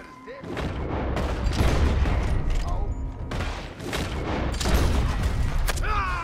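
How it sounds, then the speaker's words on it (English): Repeated gunfire in a shootout in the Red Dead Redemption 2 video game, a dense, continuous run of shots and booms lasting several seconds with a brief lull midway, loud and close. "Who else is shooting me?"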